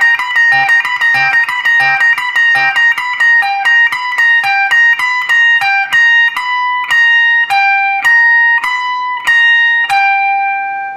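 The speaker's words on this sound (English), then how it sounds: "And there it is, Twilight Zone theme." The Twilight Zone theme is picked on an electric or acoustic guitar up high on the neck, a fast repeating four-note figure of bright, clear plucked notes that slows into longer ringing tones toward the end, played alone.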